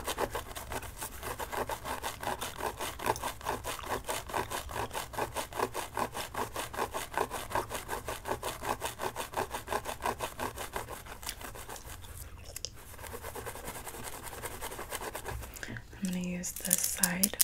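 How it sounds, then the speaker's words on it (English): Scalp scratching during a hair salon massage, done with fingers and a comb: a steady, rapid run of dry raking strokes, close and continuous, that breaks off briefly before rustling handling noises near the end. "There's scratching right here."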